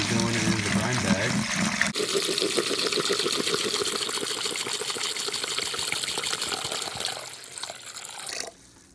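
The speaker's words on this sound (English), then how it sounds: "Okay, so the first gallon of water, hot water," Hot water pours and splashes into a turkey brine bag, a steady gushing flow for several seconds that tapers and stops near the end.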